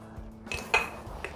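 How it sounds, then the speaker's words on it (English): A measuring spoon rattles and clinks against other metal kitchen utensils in a few short, close clatters, the loudest in the middle, with no voices. "Let me get my measuring spoon."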